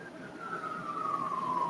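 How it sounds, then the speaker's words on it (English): A siren wails at a distance, its single tone sliding slowly downward and swelling a little over a couple of seconds in an otherwise quiet setting. "You hear the sirens all of a sudden, right?"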